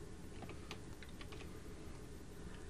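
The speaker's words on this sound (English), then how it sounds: "I'm going to press Control V on my keyboard" Computer keyboard keys click in a short, faint burst of a few taps during a spreadsheet copy and paste, over a steady background hiss.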